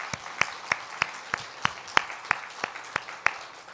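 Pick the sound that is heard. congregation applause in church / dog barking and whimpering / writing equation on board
congregation applause in church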